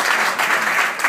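Audience applause at a live comedy show, steady dense clapping filling the room from start to end, loud and continuous with no talk over it.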